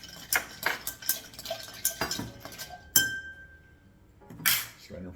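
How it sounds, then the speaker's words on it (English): Whiskey cocktail stirred with ice in a mixing glass, a bar spoon clinking and rattling the cubes in quick bursts, then a ringing clink and a final rattle, close up with a faint murmur. "But I'm gonna go ahead and stir this down quite a bit."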